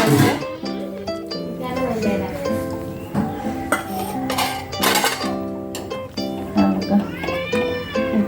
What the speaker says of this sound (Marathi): आमच्या मांजरांचा आवाज येत असेल